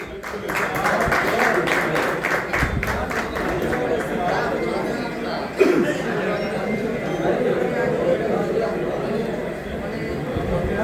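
Audience applause at a pigeon club champions award ceremony as a trophy and certificate are presented, a steady crowd clapping throughout with murmured chatter and voices mixed in, fairly close and continuous.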